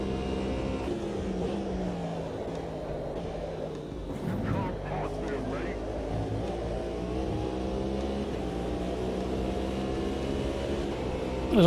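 A racing car's engine in a racing video game drones steadily near and loud, its tone rising and falling as the revs change, with a brief surge near the end.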